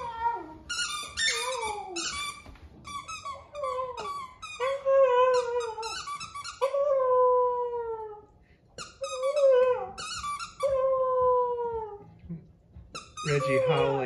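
A dog howls along with a squeaky toy, long wavering howls and sharp squeaks trading back and forth, close and loud, with people talking at times.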